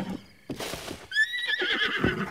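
A horse in Zelda: Breath of the Wild neighs with a loud, rising whinny, accompanied by a brief patter of hoofbeats.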